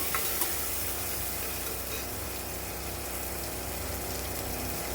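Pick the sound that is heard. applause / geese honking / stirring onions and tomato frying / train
stirring onions and tomato frying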